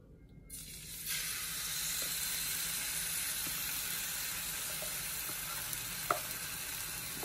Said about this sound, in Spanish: Ahora vamos a calentar nuestro salmón.